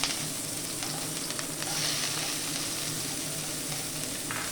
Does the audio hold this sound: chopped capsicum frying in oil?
yes